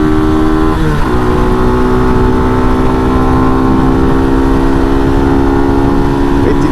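An RPS Condor 150 motorcycle rides along a highway in second gear, its engine droning loud and close with steady tones, a brief pitch dip near the start, and heavy wind rush throughout.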